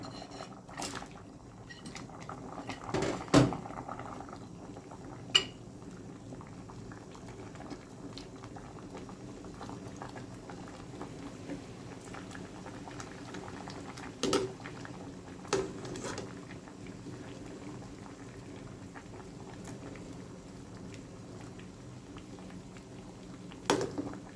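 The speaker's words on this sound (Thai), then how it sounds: "หม้อแกงก็เดือดแล้วนะจ๊ะ" A pot of catfish curry with pickled bamboo shoots simmers at a rolling boil, giving a soft, continuous bubbling and patter, quiet and close, with a few louder pops and clinks scattered through.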